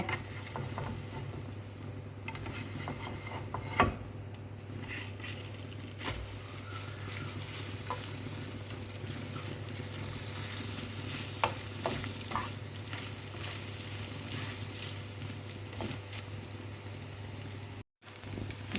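An egg fries in a pan under a constant close sizzle, while a utensil scrapes and taps against the pan now and then as it is stirred. No one speaks.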